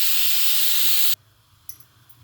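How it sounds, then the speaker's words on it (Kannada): A pressure cooker whistle lets off a loud, steady hiss of steam that stops abruptly after about a second, leaving quiet kitchen room tone with a faint click. It comes while jackfruit biryani is being cooked. "ಕುಕ್ಕರ್ ವಿಶಿಲ್ ಬಂದಿದೆ."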